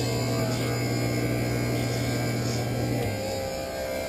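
A lens edging machine grinds a safety bevel around the edge of a plastic eyeglass lens. A steady, loud electric whir and hum runs throughout, and its pitch settles slightly lower near the end.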